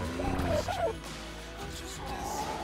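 Chickens in the survival video game ARK Survival Ascended give a short burst of clucking and gobbling calls, fairly faint and close, alone without talk.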